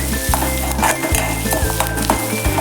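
Chopped onion fries in hot oil in a pan for a masoor dal dish, a steady close sizzle broken by regular scraping and knocking of a spoon stirring against the pan.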